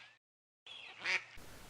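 A single duck quack sounds clearly after a brief silence, a short nasal honk peaking near the middle and trailing off.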